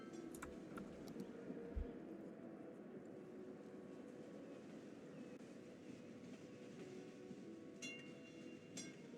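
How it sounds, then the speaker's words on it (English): A tram runs through a city in the video game Cities: Skylines, a steady low rumble of rolling wheels that continues throughout, with faint clicks and distant city ambience and no talking. "And let's follow this tram."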